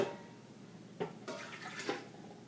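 A cup of water is poured into an egg cooker in a few short, close splashing bursts against a quiet background.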